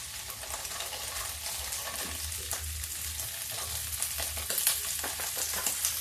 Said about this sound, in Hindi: और अब हम डालेंगे इसमें थोड़ी सी मटर।